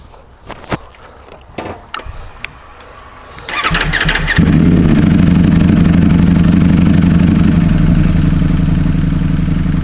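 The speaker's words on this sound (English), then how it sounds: "Let's just start it up and see the difference between the two exhausts" After a few footsteps and clicks, a 2024 Ducati Streetfighter V4 with a full titanium Akrapovic exhaust cranks, fires up loudly and settles into a deep, throbbing, steady idle close by.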